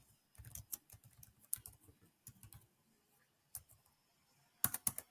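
Typing on a computer keyboard: quiet, close clusters of quick key clicks in irregular bursts with short pauses, ending in a sharper run of taps.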